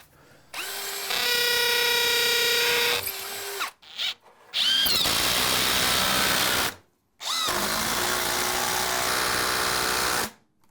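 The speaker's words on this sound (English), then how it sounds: "In order to attach the framing here to the concrete, I'm going to use these nice big Tapcons" Power drill driving 3 1/4 by 1/4 inch Tapcon concrete screws into concrete to fasten framing in a basement, three loud whining bursts close by, each several seconds long with short pauses between.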